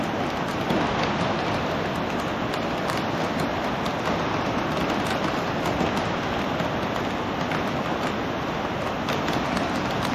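Heavy, steady rain pours down outdoors in the Philippines in a dense, unbroken hiss that stays loud and constant throughout, near a large flooded crossing.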